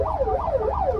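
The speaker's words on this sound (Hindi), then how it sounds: "बदमाशी देखो कैसे निकाल दिया सायरन बजा के" A wailing siren rises and falls in a steady rapid cycle, loud and fairly close, over low rumbling traffic noise.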